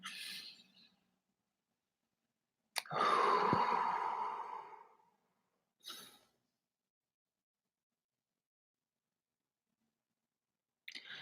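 One long, deep breath sweeps in and out clearly and close by, followed by a short softer breath and a faint click, with silence between them and no talking.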